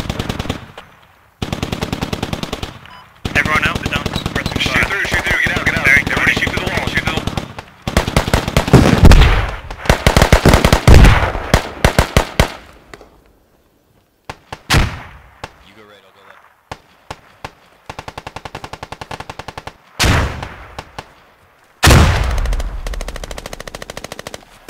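Automatic rifle gunfire in the tactical shooter Squad, loud bursts of rapid shots separated by short silences, with a few single cracks and a voice speaking between them.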